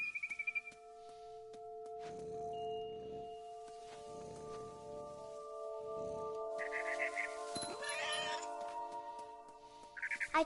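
A cat meows and yowls in the video game What Remains of Edith Finch, several drawn-out cries spread across the scene over a soft ambient music bed, with faint chirps near the end.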